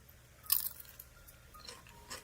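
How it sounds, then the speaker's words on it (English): A crunchy chip being chewed close to the mouth, with a sharp crunching bite near the half-second mark and softer crunches trailing after, all fairly quiet and with no one talking. "Can you guys hear me chewing this chip?"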